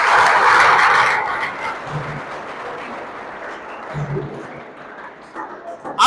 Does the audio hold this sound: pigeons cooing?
no